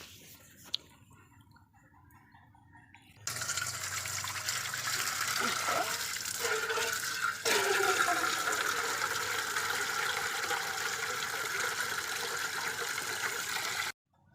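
Water runs from an outdoor tap in front of a house into a container for a rural Bengali home meal, a steady broadband rush starting after a quiet opening and continuing for about ten seconds before stopping abruptly.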